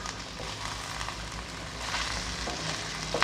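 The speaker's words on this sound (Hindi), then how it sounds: "पोटैटो हमारे हल्के से इसमें फ्राई हो जाएं ऑयल में।" Potatoes fry in hot oil for a chicken macaroni dish, a steady close sizzle with faint crackling and stirring throughout, no voices over it.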